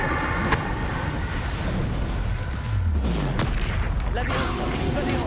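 Spell-casting effects from the Hogwarts Legacy video game on PS5, with an Incendio fire spell amid a dense, continuous rumble of booming blasts and mechanical whooshes, including a low descending sweep midway, loud throughout.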